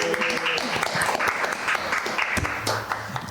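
Studio audience on a Brazilian podcast set clapping to welcome a guest, a dense, fairly close burst of applause with some voices mixed in.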